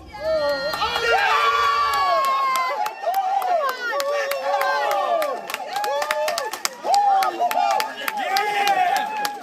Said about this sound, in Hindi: नासा के वैज्ञानिक खुशी से चिल्लाते और तालियां बजाते हुए नजर आए